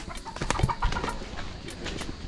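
A brooding hen clucks a few short times, close by, among light outdoor rustling and background noise.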